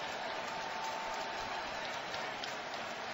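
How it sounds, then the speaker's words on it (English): Sold-out baseball crowd at Citi Field roaring and cheering during a 2015 NLDS Game 3 playoff game with two strikes, a dense, steady wash of distant crowd noise with no break. "with 2 strikes, the crowd at Citi Field rises to its feet"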